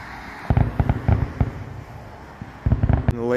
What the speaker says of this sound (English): I think that was the grand finale of the fireworks